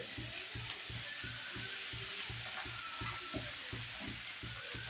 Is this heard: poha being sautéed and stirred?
yes